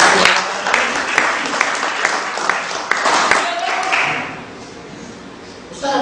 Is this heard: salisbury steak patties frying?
no